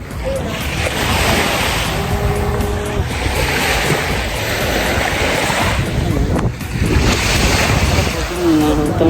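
Ocean waves at Jumeirah Beach roll and wash steadily with heavy wind noise on the microphone, and people chat now and then over the surf.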